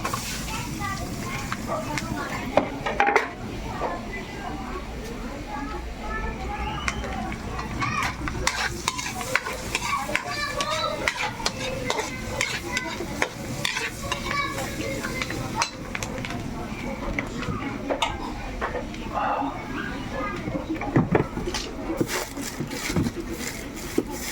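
Garlic and onion frying in a pan for a crab dish, with a steady sizzle and repeated scraping stirs throughout, while people talk over it.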